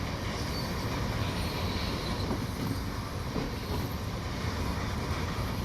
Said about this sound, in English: This must be our train.